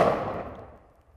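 A single gunshot from an Ammo Inc .223 frangible round, a sharp loud report that rings out and decays over about a second.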